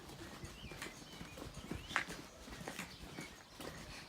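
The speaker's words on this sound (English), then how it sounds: "having herds of cattle walk through your town" Herd of cattle walking through the streets of a small village on the Camino de Santiago, hooves clopping in a continuous irregular patter at close range, with faint bird calls and no talk.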